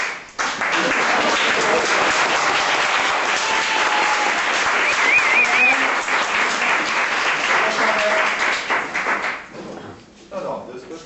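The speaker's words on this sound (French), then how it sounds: "Donc, je pense qu'on peut l'applaudir." Audience applause at a méchoui gathering, a sustained burst of many hands clapping that holds strong for several seconds, then thins out while voices carry on beneath it.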